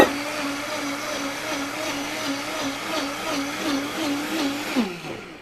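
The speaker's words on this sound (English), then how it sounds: "And that's a kitchen blender." A kitchen blender purees tomatoes for pasta sauce in a steady, loud whir with a rhythmic churning pulse, running close and continuous before winding down at the end.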